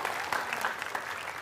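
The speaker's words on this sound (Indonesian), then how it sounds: "kita kasih tepuk tangan untuk Arya Kusuma" An audience at a stage event breaks into brief, dense applause, a steady burst of many hands clapping heard close and clear.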